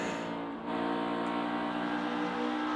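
NASCAR Xfinity race cars on throttle at Texas Motor Speedway, a loud, continuous, high-revving engine roar that stays steady and dense throughout with no talk.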